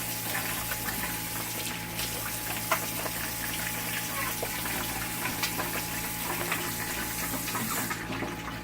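Water is poured over Guinean attieke while it is being prepared, making a continuous, fairly loud gushing stream that holds steady for several seconds.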